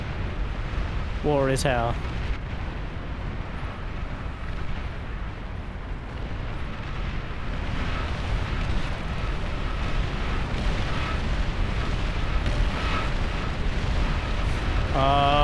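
Dense rumbling barrage of bomber and plasma cannon explosions from the Beyond All Reason strategy game, continuous roaring booms throughout, with a voice speaking briefly over the din.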